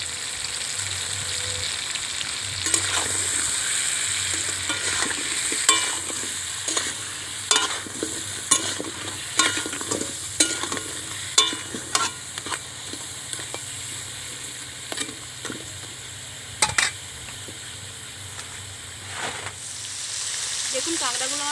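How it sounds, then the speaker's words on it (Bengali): Crabs frying with turmeric and salt in a pan, a steady sizzle punctuated by frequent sharp scrapes and clacks of a spatula stirring them, with some speech now and then. "দেখুন কাঁকড়াগুলো আমার ভাজা হয়ে গিয়েছে"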